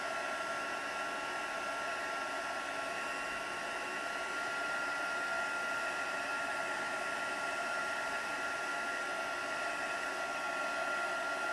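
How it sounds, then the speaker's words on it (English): Electric heat tool blowing hot air in a crafting session, a steady, loud, unbroken whoosh with a faint motor whine that holds evenly throughout, with no voices. "The heat tool's nice and hot now."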